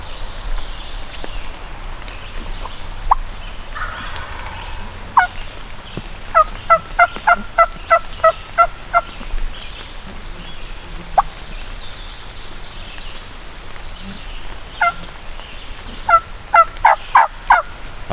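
Wild turkeys gobbling from a distance, heard as several rapid, rattling gobble bursts spread over a quiet outdoor background, with short calls between them.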